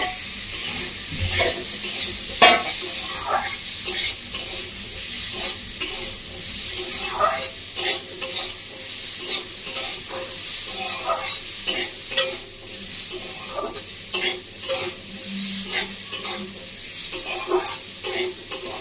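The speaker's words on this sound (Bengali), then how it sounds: "বন্ধুরা, বেশিক্ষণ ভাজবো না, আমি 2 মিনিট মতো ভেজে নিয়েছি" Washed mung dal frying in a pan, a steady close sizzle broken by frequent scraping stir strokes throughout, with no talking.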